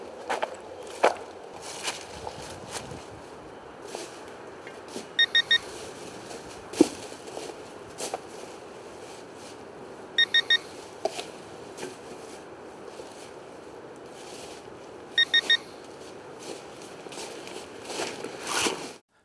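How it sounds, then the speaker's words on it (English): A ProPointer AT metal-detecting pinpointer left switched on gives three sets of short, bright warning chirps, evenly spaced about five seconds apart, over a faint outdoor background with occasional rustles and taps. "the ProPointer AT will begin emitting warning chirps after 5 minutes of being on without a button"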